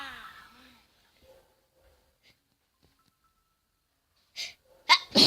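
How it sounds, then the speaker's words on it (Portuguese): After a long quiet stretch, a woman sneezes close to the mic, with a sharp intake and then two forceful bursts in quick succession. "eu espirrei"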